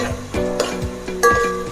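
Whole seeds crackle in hot oil for tempering, with a light sizzle broken by several sharp metallic clinks and scrapes of a utensil against the pan, heard up close without speech.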